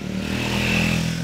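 A Triumph Speed 400 or Scrambler 400 X motorcycle engine hums steadily at high revs while riding, loud and continuous with wind noise over it.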